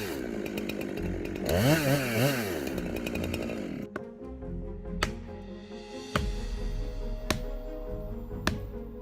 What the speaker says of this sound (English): The power of the chainsaw combined with human strength creates an impressive moment of sawing down a